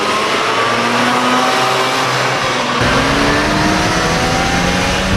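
A 1992 Mazda RX-7 Type R with its rotary Wankel engine revs loudly and up close, its pitch sweeping upward through steady, buzzing climbs that are continuous and dominant, with no voices over it.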